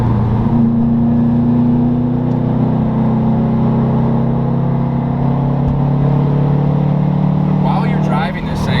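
A 2017 Subaru WRX STI drives along with a steady, droning engine hum and road rumble holding at an even pitch throughout, close and loud from inside the car, with no clear rev rise.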